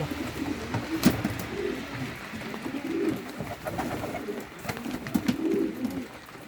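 Adana pigeons cooing in a loft, soft repeated throaty coos in short rolling phrases about every one to two seconds, close and steady against light background noise.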